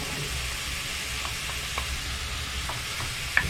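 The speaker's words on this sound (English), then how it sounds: "Now our bacon's starting to fry off there a little bit." Bacon sizzling and frying in a pan aboard a narrowboat, with onions about to go in: a steady close, broadband crackle throughout, with a few light scrapes and pops, and no talking.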